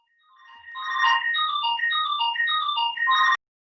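A mobile phone ringtone plays a bright, repeating electronic melody during an online poetry session, swelling in over the first second, then ringing steadily and clearly alone for about three seconds before cutting off abruptly.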